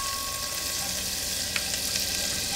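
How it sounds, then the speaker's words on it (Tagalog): Onion sautéing in melted butter in a saucepan, a steady soft sizzle and crackle throughout with faint scattered pops, no voices. "Itutuloy lang natin ang paggisa dito. So, igigisa lang natin itong sibuyas hanggang sa lumambot"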